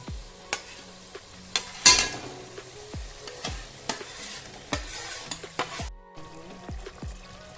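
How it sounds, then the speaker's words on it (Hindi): Masala for beef chops gravy is stir-fried in a pan with added meat stock, a continuous sizzle broken by repeated sharp scraping strokes of a spoon, close and steady, with a brief dropout. "हम उसी को थोड़ा थोड़ा डालकर भूनते जाएंगे"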